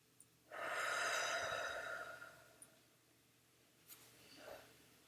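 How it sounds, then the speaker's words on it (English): One long, close breath drawn in through the nose turns into a slow, airy exhale through the mouth, followed by a few faint small sounds and a softer second breath. "I am breathing in through my nose, feeling the top of my head, and breathing out of my mouth."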